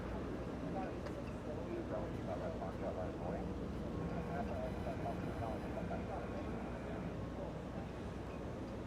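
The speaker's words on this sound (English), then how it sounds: "ERJ 135 flying to Vegas." An ERJ 135 regional jet departing Los Angeles International Airport for Las Vegas, a steady broad engine roar held at constant loudness throughout with faint tonal whine, heard from a distance with no breaks.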